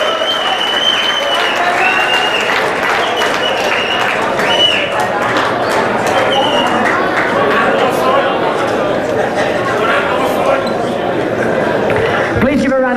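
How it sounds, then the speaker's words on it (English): A crowd at a state championship boxing bout applauds steadily and loudly for about thirteen seconds, with sustained clapping and cheering filling the hall. "Please give a round of applause for his opponent from YLA Boxing Club, Alex Norris."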